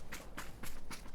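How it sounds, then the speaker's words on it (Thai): Unusual footsteps in a Thai-played online shooter game, four quick soft thuds in a running rhythm, fairly close and heard without speech. "เสียงเท้าแปลกๆว่ะ"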